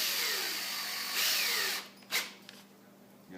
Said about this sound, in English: You're going to drive these 1-inch screws in